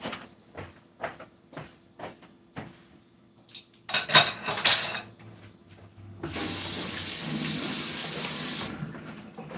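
A spoon clanks and scrapes against a pot of braised beef sauce in a few sharp knocks, then a denser, continuous bubbling hiss rises from the pot and holds to the end.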